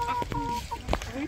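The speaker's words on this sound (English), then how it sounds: "Nice goose." On a Russian homestead farm, a goose gives a few short, nasal honks at close range, mixed with other fowl clucking and people talking nearby.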